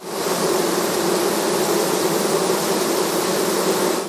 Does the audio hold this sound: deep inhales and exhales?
no